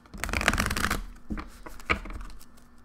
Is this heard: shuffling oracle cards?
yes